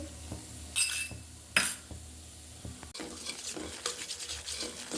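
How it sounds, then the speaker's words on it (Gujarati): Semolina, gram flour and ghee being stirred in a pan with a spoon while cooking for shiro, heard as close scraping and clinking with a soft background sizzle, a few sharper knocks, and no talking. "સોજી, બેસન અને ઘી ત્રણેયનું મિશ્રણ એકસાથે હલાવતા રહીશું."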